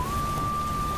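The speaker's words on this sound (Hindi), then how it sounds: "बारिश शुरू हुई" Steady rain on a stormy day, a broad dense hiss filling the whole moment with a faint thin tone running through it, continuous and even with no voices.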